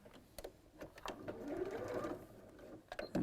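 A sewing machine quietly stitches a short run along the seams of a quilt block, a soft whirring burst of about a second with faint handling clicks around it.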